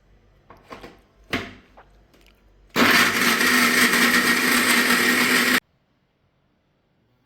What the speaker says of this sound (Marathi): आणि आता आपण हे सगळं मिक्सरला लावून घ्यायचं.